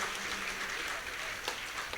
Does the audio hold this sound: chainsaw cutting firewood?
no